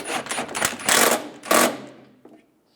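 Bolts on a 2007-2013 Chevrolet Silverado bumper end being tightened, a close, uneven run of mechanical whirring bursts that fade into quiet near the end.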